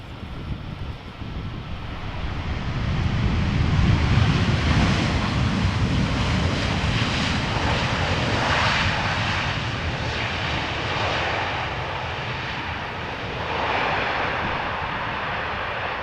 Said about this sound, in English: it is a Boeing 7879 Dreamliner arriving from Cartagena